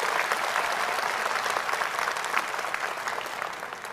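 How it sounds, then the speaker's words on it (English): Graduation ceremony audience in a large hall applauding family and friends, a sustained, full round of many clapping hands at steady loudness, easing slightly toward the end. "How about a big round of applause for your family and friends?"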